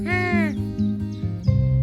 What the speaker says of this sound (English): We're gonna hear the blue jay call.